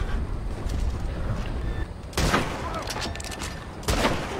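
Gunshots in the video game Red Dead Redemption 2, with two sharp loud shots standing out against a steady background of mixed game noise and distant firing.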